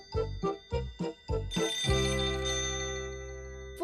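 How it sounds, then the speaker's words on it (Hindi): A cartoon telephone rings in a Doraemon episode, five short repeated electronic trills followed by one long sustained ring that fades slightly, heard alone with no talking. "लगता है ये फोन मुझे ही अटेंड करना पड़ेगा।"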